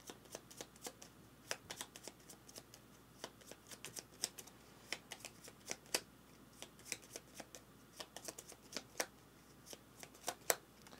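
A deck of cards shuffled repeatedly for a tabletop board game, crisp riffling bursts and taps in an irregular rhythm, close and fairly quiet, without speech.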